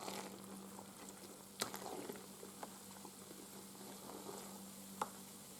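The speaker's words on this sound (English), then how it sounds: "So I'm just going to give it a quick stir." Homemade wine fermenting in a bucket gives a steady fizzing, bubbling hiss as it is stirred, with a couple of sharp knocks from the stirrer against the side, all close and fairly quiet.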